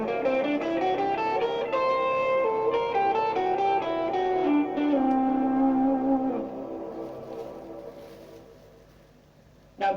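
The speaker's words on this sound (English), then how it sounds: "So the C Lydian Dominant scale looks and sounds like this." Piano runs through a C Lydian dominant scale, single notes stepping steadily one after another and ringing out at the end, moderately loud and alone.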